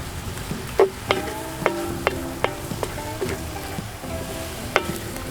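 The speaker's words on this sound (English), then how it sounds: "And we're going to stir this in." Onion is stirred into an oiled Dutch oven over a campfire, bringing a gentle sizzle broken by a series of distinct metallic scrapes and clinks from the spoon, close and moderately loud.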